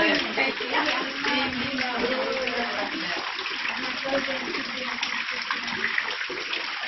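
Flood water sloshes and splashes through a waterlogged home's courtyard and rooms in a steady, close wash while people talk over it.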